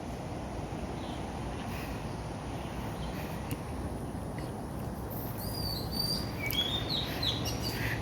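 Several birds chirp and trill in short, bright calls over a constant background hiss, growing busier toward the end.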